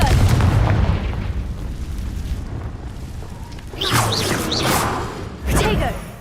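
Confringo fire spells bursting in Hogwarts Legacy: a loud low rumbling boom opens, then a couple of whooshing blasts follow, with a speaking voice heard over the game sounds.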